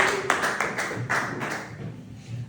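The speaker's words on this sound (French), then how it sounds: "Acclamons pour l'Éternel." A church congregation claps in praise of the Lord, a run of sharp, fairly even hand claps in quick rhythm, close and moderately loud, then thinning out toward the end without speech.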